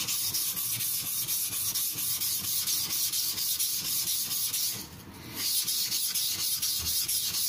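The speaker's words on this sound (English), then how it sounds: "Being coarse stone and not very soft, it abrades steel and it releases abrasive particles" A Tojiro Shirogami nakiri F-699 knife is ground on a coarse King 300 grit whetstone, giving a steady, close rasping rub with a brief lull partway through.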